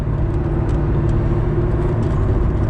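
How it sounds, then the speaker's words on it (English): A Corvette C5 Z06 with high-flow cats, Billy Boat exhaust and a Blackwing intake, heard as a deep, steady low exhaust rumble while cruising, close and continuous, with no talking. "The exhaust sounds amazing."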